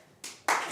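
Two short bursts of audience clapping at an improv comedy show, each swelling quickly from near silence, the second louder and fuller, as the crowd applauds to vote for an answer choice.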